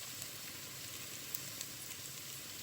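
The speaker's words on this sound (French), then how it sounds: "On commence par faire mijoter les oignons coupés assez fins dans de l'huile d'olive." Finely chopped onions sizzle gently in olive oil in a pan, a steady quiet crackling hiss with occasional tiny pops, heard alone without speech.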